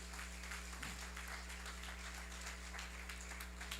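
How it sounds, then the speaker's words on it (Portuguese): A church audience gives faint, thin applause, a soft patter of clapping sitting far back under a steady low electrical hum throughout. "Pode aplaudir Jesus."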